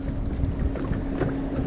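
A boat motor drones steadily on the water near a kayak, a low continuous hum with wind buffeting the microphone throughout.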